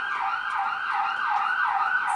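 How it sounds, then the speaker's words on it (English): Emergency vehicle sirens wail outside in a repeating rising-and-falling pattern, steady and fairly loud, with no other sounds over them. "Sorry for the sirens."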